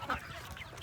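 Hens on an open organic chicken farm give a brief cluck near the start, fairly close but quiet, over low farmyard background noise.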